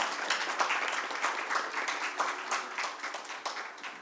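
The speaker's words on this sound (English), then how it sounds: "A big round of applause for all the artists." An audience at a Ministry of Culture music event in Mumbai claps for the artists on stage, a steady, moderately distant applause with a dense patter of hands and no speech.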